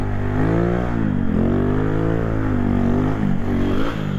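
A 2016 Boom Vader X Pro 125 motorcycle engine revs hard and close, its pitch sweeping up and down through several throttle blips during a wheelie, loud and steady with no talk.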